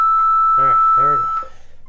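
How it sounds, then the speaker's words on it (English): A timer gives off a steady electronic beep tone held for over a second, with a voice speaking over it before it cuts off. "I'm going to stop this timer"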